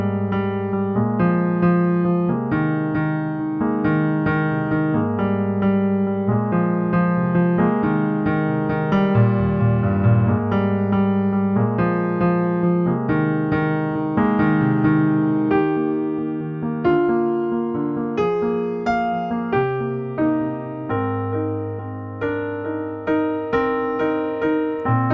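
A steady, flowing piano plays the intro of a song, broken chords in an even rhythm with a bass line underneath, close and moderately loud, no voices for the whole stretch.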